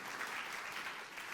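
A church congregation at a Christmas Day service claps together in sustained, even applause, distant and fairly soft, with no talk over it.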